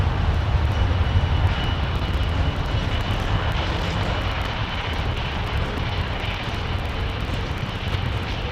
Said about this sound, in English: Two 380s landing close to each other.